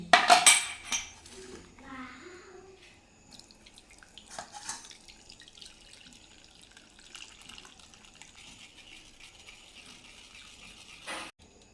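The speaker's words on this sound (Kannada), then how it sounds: "ಈಗೇನು ನೀರು ಹಾಕಿ ಎಲ್ಲ ರೆಡಿ ಮಾಡ್ಕೊಂಡು ಇದನ್ನ ಸೋಸ್ಕೊತಾ ಇದ್ದೀನಿ" Water trickles and drips as pani puri water is strained in a kitchen, with metal utensils clinking at the start and a brief clatter near the end.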